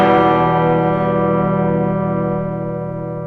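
An electric guitar through a Boss OD-200 hybrid drive in Centaur overdrive mode rings out as one loud sustained chord that decays slowly over a few seconds, with no other sounds.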